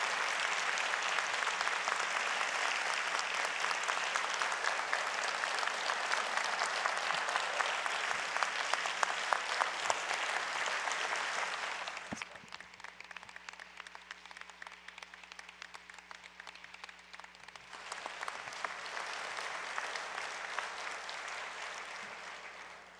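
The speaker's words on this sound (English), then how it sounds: "That round of applause was for y'all." Audience applause fills a members' meeting hall, a dense crowd clapping that runs loud for about twelve seconds, drops back briefly, then swells again toward the end, with no talk over it.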